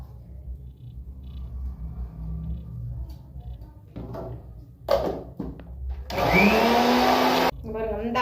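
A kitchen mixer grinder turns soaked raw rice into batter, with a low rumble and a few knocks and clatters before the motor starts for a loud, close, whirring grind of a couple of seconds, followed by brief rattling.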